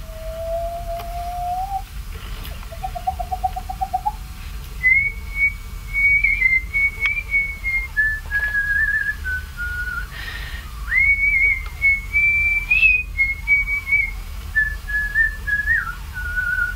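A person whistles a tune alone, a melody of sustained pitched phrases that step up and down over about seventeen seconds, fairly close and clear with some room hum beneath.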